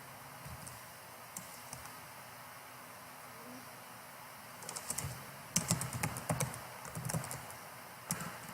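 Keystrokes on a computer keyboard as a headline is typed, in irregular bursts of clicks that grow denser toward the end, close and moderately loud over a quiet room hum.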